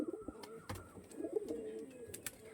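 Flying pigeons kept for sale give soft, low coos, fairly faint and uneven, broken by a few sharp clicks and taps in a quiet room.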